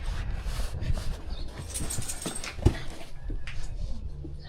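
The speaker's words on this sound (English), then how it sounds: "See, you're a good doggy." A dog whimpers and whines softly at a doorstep during a package delivery, with short yips and a sharp bump partway through, heard close and without speech.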